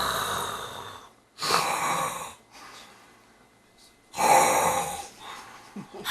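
An elderly man snores loudly as he sleeps indoors beside a cat, with two long, heavy snoring breaths separated by quieter breathing.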